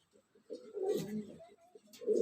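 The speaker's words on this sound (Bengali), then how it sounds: "এই যে আমার একজোড়া কিং কবিতর, অসাধারণ একজোড়া কবিতর।" A pair of King pigeons coo in a small loft, two short, soft, low cooing phrases close by in quiet surroundings.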